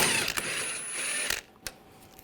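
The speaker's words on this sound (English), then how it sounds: "Use a 13mm socket. Take that nut out." Ratchet wrench with a 13mm socket working a front strut nut on a 2007-2013 BMW 328i, a dense run of fast metallic clicks for over a second, then a couple of sharp isolated clicks, close and fairly loud.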